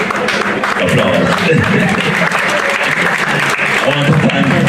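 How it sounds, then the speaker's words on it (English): Loud, dense applause from an audience at a Blue Mountain Coffee Day event, a steady crowd of clapping hands that continues throughout with some voices mixed in underneath. "Applause."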